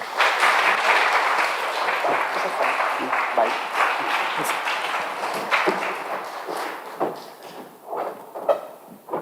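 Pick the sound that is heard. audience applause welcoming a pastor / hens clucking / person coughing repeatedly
audience applause welcoming a pastor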